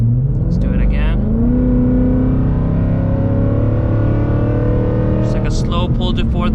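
A Ford Mustang GT S650 accelerating in a slow pull up to 4,000 rpm, the engine note rising steadily and loudly from inside the car while someone talks over it.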